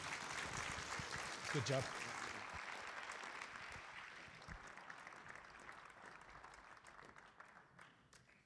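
An audience at a Southern Arizona chamber of commerce business summit applauds a speaker, with steady clapping that slowly thins out and a brief voice speaking near the start.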